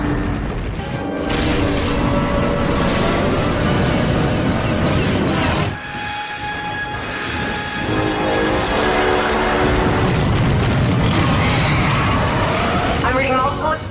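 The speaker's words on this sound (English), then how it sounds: "I'm reading multiple explosions" Loud, rumbling blasts and crashing booms from a space fleet being destroyed roll on continuously, layered with dramatic music and a brief dip in the middle, in the TV series Andromeda.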